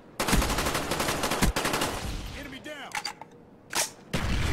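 Rifle fire in Black Ops 1, a loud burst of rapid automatic shots opening the moment and returning near the end, with brief quieter gaps between bursts.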